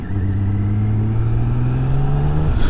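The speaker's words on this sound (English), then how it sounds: "Oh, listen to that straight six, that is awesome." A BMW straight-six motorcycle engine revs smoothly and loudly up close, a steady rising drone with a rich low hum that climbs in pitch, then drops off at the end.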